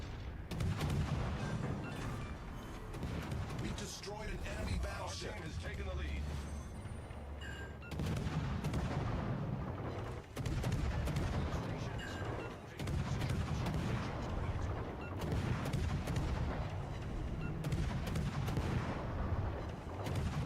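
Naval artillery shells firing in the World of Warships: Legends video game, dense booming gunfire and rumbling explosions layered over constant game noise, with voices talking throughout.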